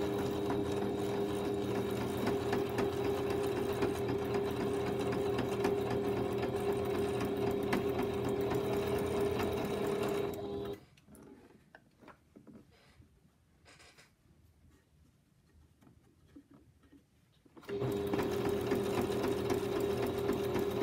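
A sewing machine hums steadily at close range while stitching binding along the last edge of a potholder, stopping for several quiet seconds midway and then starting again.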